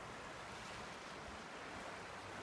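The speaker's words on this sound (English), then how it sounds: "Right now, the river's just right below me right here." The Weiser River runs in flood near Midvale, Idaho, in 2019, a dense, steady rushing roar close by, with some wind noise and no speech.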